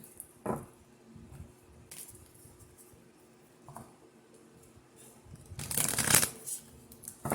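Oracle cards handled and shuffled, soft close riffles and slides in scattered bursts at low volume, ending in a louder longer flurry of shuffling, with no speech.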